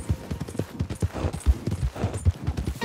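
Horse hooves clip-clop in Red Dead Redemption 2, a steady rhythmic series of close, thudding steps with game ambience around them and no talk.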